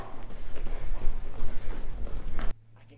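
Hard footsteps clop rhythmically down a hallway, close and fairly loud, a quick series of hollow knocking steps that stop abruptly, leaving faint room tone.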